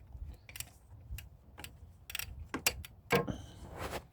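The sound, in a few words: wrench turning on serpentine belt tensioner, 2012 Cadillac CTS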